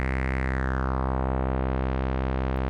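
Dreadbox Telepathy synth voice with a triangle-wave VCO frequency-modulating its low-pass filter cutoff and added resonance, giving a steady buzzy, dirty drone with a slowly sweeping, thinning upper tone, sustained and alone.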